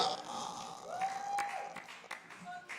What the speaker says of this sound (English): Round of applause for Caleb, everybody